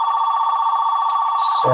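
Telephone ringing during an online presentation about a hunger-relief partnership, a steady electronic tone held close and loud that ends abruptly as a voice cuts in.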